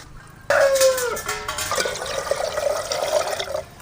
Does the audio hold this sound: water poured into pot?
yes